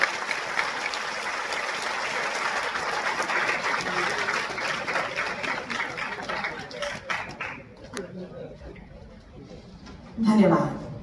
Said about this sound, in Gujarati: ખૂબ તાળીઓ થઈ જાય